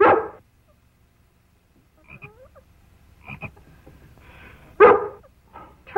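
Pet frog named Henry croaking, a few short scattered croaks between quiet gaps, close and fairly clear, with a dog-like yip mixed in.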